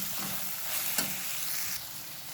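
Mushroom sukka with pepper powder sizzles steadily in a pan while being stirred, a close continuous hiss with a brief scrape of the spoon partway through.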